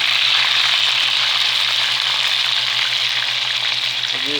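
Chicken wings frying in a pan make a steady, close hiss and crackle of hot oil that stays fairly loud throughout, and no one speaks.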